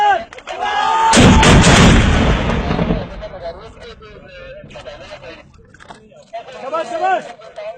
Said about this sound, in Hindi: motor fire